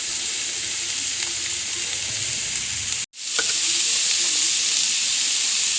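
Beans, carrot and onion stir-frying in a pan for egg fried rice give a steady, loud sizzle with stirring scrapes. The hiss cuts out for a split second midway, then resumes just as strongly.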